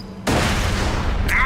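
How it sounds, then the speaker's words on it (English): A live hand grenade going off in Borderlands: a sudden loud blast that swells into a sustained rumbling roar and lingers close by, with no voices over it. "It can also toss out a live hand grenade"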